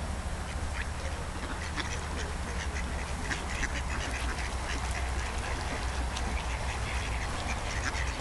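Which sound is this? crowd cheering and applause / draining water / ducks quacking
ducks quacking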